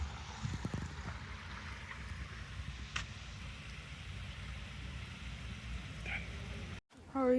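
A beautiful stream and waterfall in Ontario, near a footbridge, make a steady broadband rushing of flowing water that carries on evenly throughout, with a few faint brief noises over it.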